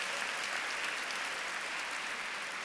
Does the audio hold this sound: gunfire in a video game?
no